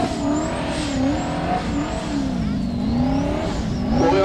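A Formula Offroad race car on track 6 at Mysen, Norway, with its engine revving hard and steadily, pitch rising and falling as it throttles through the course, loud and close with no talk.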